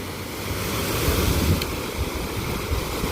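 Waves wash and break on Lake Erie at Presque Isle on a windy day, a steady roar of surf mixed with gusting wind buffeting the microphone, continuous and loud.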